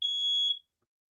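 A smoke alarm gives a single shrill, high electronic beep lasting about half a second, then silence.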